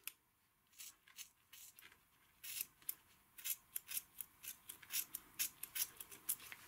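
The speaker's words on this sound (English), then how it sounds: "just use a pair of scissors" Scissors snip through a wood stove door gasket in quick, crisp, close cuts that come faster and closer together as the trimming goes on, with no talking.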